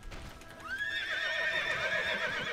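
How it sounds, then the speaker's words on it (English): A horse mount in the online game Tera gives a loud, drawn-out whinny that wavers in pitch, with hoofbeats running underneath, alone and close. "The horse."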